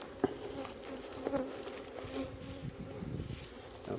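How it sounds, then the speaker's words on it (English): Steady buzzing of many bees around a hive, a continuous hum with occasional louder passes of individual bees nearby, with no talking. "The bees are a little more antsy, slightly breezy."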